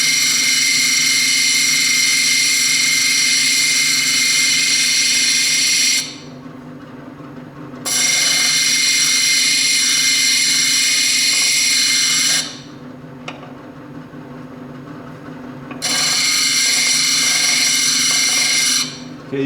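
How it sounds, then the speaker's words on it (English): A stone cabochon being ground on a grinder, loud whining tonal hum in long stretches broken by two drops to a lower motor drone, close and continuous. "The only reason I'm grinding these corners off"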